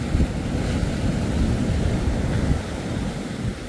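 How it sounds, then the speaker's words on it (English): A boat with two Yamaha 100 four-stroke outboard motors running, a steady low rumble mixed with heavy wind and water noise, no voices. "just started the motors"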